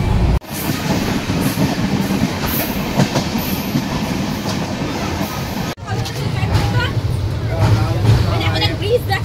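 The Kanchan Kanya Express rumbles steadily along the rails with rhythmic clatter and wind roar from inside a carriage, loud and unbroken apart from one brief dropout, with voices chattering faintly in the background.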